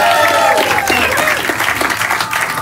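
A studio audience breaks into sustained applause, dense clapping from a large crowd that stays loud and even throughout with faint cheers mixed in.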